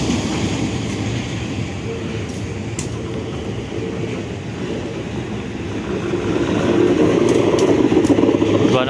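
A locomotive rumbles along an extreme line squeezed right up against houses, a steady close low roar that swells louder toward the end, with faint talk beneath.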